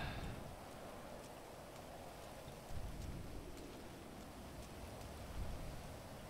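Steady rain patters down in a video game, a continuous hiss of falling drops with faint soft taps, heard alone without talking.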